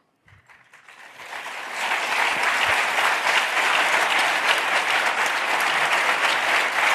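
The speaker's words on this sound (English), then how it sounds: "the audience responded with rapturous applause" Audience applause rising from a few claps into full, steady clapping from a large crowd that holds for several seconds, with no one speaking.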